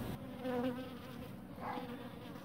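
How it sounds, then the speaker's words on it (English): Honeybees buzzing around a queen cage while introducing a queen to a queenless colony, a close, steady droning hum with a few rising wingbeat swells. "you can see the bees are kind of crawling all over the cage, feeding her"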